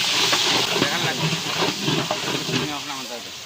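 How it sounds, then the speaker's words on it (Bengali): Sliced onions fry in hot oil with cinnamon, cardamom and bay leaves, giving a continuous loud sizzling hiss that fills the whole stretch. A voice is faintly audible beneath it. "তেলটা 5 মিনিট ভাজবো"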